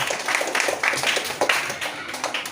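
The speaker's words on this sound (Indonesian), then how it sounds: "Beri tepuk tangan untuk Denisa." A fifth-grade classroom full of people clapping steadily for a couple of seconds, a dense patter of hands with no voices over it.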